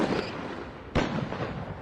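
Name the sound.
mortar crew firing in video game Empire Total War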